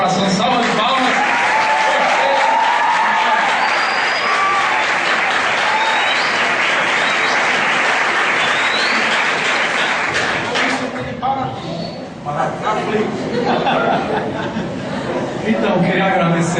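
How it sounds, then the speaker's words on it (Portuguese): Loud, sustained applause from a school lecture audience, with some chatter and light laughter as the clapping tapers off near the end. "Salva de palmas."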